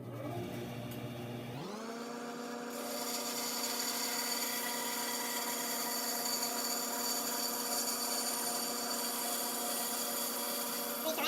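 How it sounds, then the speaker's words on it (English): A bandsaw spinning up and then slicing the edge off a wooden board, a steady whining motor hum joined by a bright sustained cutting buzz that continues unbroken and close. "I want to cut this whole edge right off this board."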